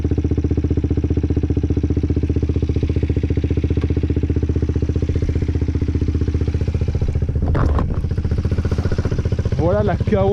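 Kawasaki Z125 motorcycle with an Arrow exhaust and no dB killer, idling with a steady, close, throaty pulsing; a couple of short throttle blips near the end and a voice speaking briefly over it.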